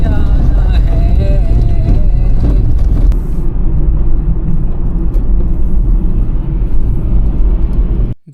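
Car driving along a potholed road near the Dawki and Bangladesh border, a loud continuous rumble of engine and tyres with road noise throughout, ending abruptly.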